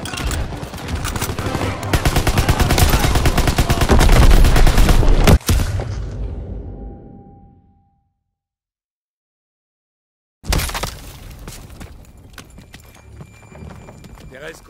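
Rapid bursts of loud, close World War II gunfire from the Call of Duty WWII game's Operation Cobra mission, dense and continuous for several seconds before cutting to silence, then resuming at a lower level.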